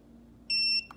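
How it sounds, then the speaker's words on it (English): One steady electronic beep from a Tymate tire pressure monitor, clear and fairly loud, lasting about a third of a second over a quiet background hum, followed by a faint click. "And you see it beeps, and now PSI is blinking."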